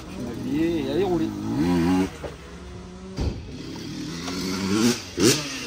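A Fantic motorcycle engine revs at a race track, rising and falling revs in wavering bursts, fairly near and loud, with a sharp burst near the end and a voice talking in places.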